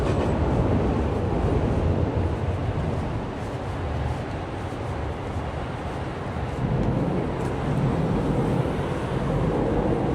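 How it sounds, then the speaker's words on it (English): A Shinkansen bullet train rushes past in Tokyo, a loud, continuous roar of wheels and air, thick with wind buffeting on the microphone. "Shinkansen."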